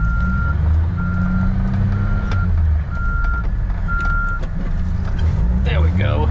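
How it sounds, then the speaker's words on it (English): A four-wheel drive truck reverses and turns around in snow, its backup alarm sounding a steady string of evenly spaced beeps over a loud, continuous engine rumble, with a voice talking near the end. "I'm gonna get myself turned and spun around here, Jason, to get back into me."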